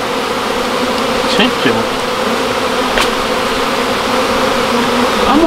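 A dense, steady drone of honey bees hums around a hive that may hold a swarm, with individual bees whining past up close over the continuous buzz; someone speaks briefly.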